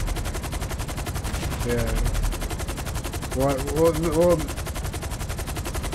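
Rapid video game machine-gun fire at helicopters, a continuous dense rattle held steady throughout while voices talk briefly over it.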